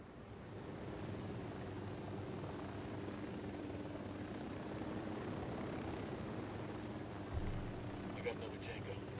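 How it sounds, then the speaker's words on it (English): A patrolling Unidad helicopter in Ghost Recon Wildlands drones steadily with a low rotor rumble and faint engine whine, at a distance under quiet game ambience, with a brief thump near the end. "It says that we need to locate the patrolling Unidad helicopter."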